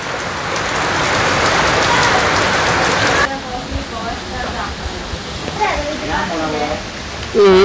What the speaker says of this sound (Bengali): বৃষ্টি পড়ছে